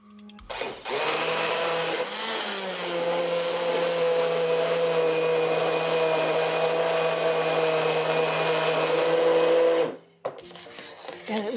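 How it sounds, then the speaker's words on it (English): Immersion blender purees watercress soup in a pan, a steady whirring motor drone with a bright rasping edge, running close and loud for about nine seconds after a brief start-up, then cutting off abruptly. "This is the immersion blender, and it works really well."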